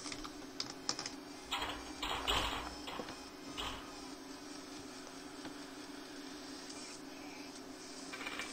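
Rapid keystrokes clatter on a computer keyboard in irregular bursts, loudest early on and then thinning to sparse taps over a steady background hum.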